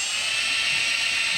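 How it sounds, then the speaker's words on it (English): A tiny drill bit bores into stainless steel, a steady high-pitched whine with no pauses, loud and close, and no voices over it. "So stainless, as it gets hot, it work hardens, and then it just gets harder and harder to drill."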